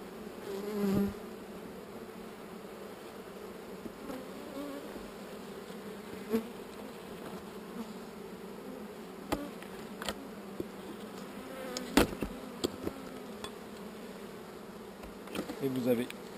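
Honeybees buzzing around open combs of wax and honey during a honey harvest, a steady, fairly quiet drone of many insects with occasional louder close passes and faint clicks.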